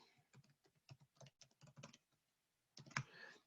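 Someone types an email address and password on a computer keyboard, giving a quick close run of irregular key clicks. A short pause follows, then a few louder final taps and a heavier keystroke, with no talk.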